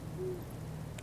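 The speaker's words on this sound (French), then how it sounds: "Le bruit intermittent d'un hibou qu'on a comme seule compagnie" Owl hooting at night, a single soft low hoot heard faint and distant over a dull background hum, with no voices.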